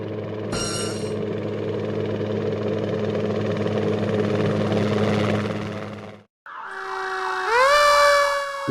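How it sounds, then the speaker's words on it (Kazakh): A steady, loud rotor-like drone gives way after a brief gap to a fire engine siren, its wailing tones sweeping up and down repeatedly at close range. "Өрт сөндіру көлігі."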